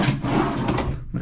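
A hotel room drawer below a television slides open or shut in one short wooden scrape and knock, close and fairly loud, with no talking.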